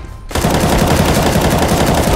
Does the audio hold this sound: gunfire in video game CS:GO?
yes